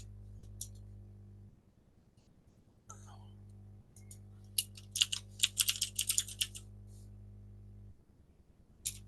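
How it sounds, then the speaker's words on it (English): Clacky computer keyboard being typed on during an online meeting, a quick burst of sharp key clicks in the middle over a quiet background hum, with a few scattered clicks before and after. "Can you hear my clacky keyboard?"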